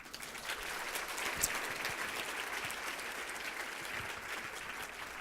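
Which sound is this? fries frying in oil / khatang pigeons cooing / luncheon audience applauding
luncheon audience applauding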